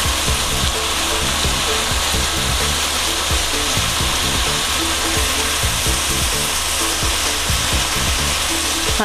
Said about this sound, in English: we just wait for this to heat up and fry